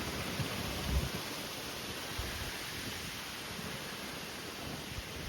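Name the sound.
heavy rain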